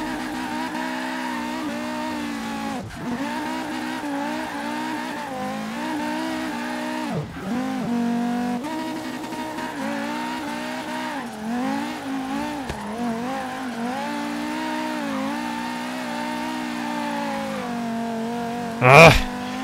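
Swapped-engine Volvo 850 R drifting in Forza Horizon 3, a steady droning engine note rising and dipping with throttle shifts, tyre squeal layered through, and a brief loud burst near the end.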